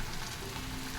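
Rava dosa frying in a generous layer of oil on a pan, giving a steady, even sizzle that holds for about a second with no voices.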